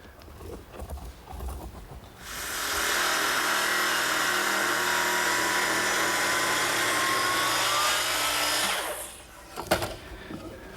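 Power saw cutting a knife slot into a wooden butcher block, one continuous loud whining cut of about seven seconds with quieter shop handling noises before and after.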